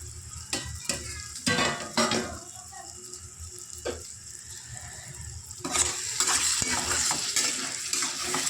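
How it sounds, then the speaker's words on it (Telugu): A spoon scrapes and stirs dried prawn and tomato curry in a sizzling pan, with several quick clinks against the metal and steady frying underneath. "అడుగంటకుండా తిప్పుకోవాలన్నమాట."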